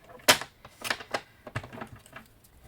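Paper being cut for a handmade sketch card, a series of close, crisp snips and clacks, one sharp at the start and then several lighter ones at an irregular pace, with no talk.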